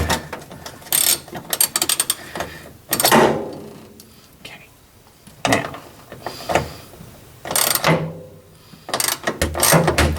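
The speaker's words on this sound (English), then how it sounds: "Make sure the ratchet is on tighten." Ratchet wrench tightening a clamp on a 1965 Corvair during a fuel pump controller install, several close bursts of quick clicking separated by pauses.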